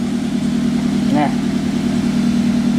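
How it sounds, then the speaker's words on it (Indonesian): A car with an EFI system idles steadily just after being started during a sensor diagnosis, a constant close low hum throughout. "ini mesin sudah kita hidupkan"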